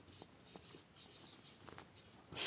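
Marker or chalk scratching out an English sentence on a board during a grammar lesson, a few short faint strokes with pauses between them, ending in a louder brushing sound.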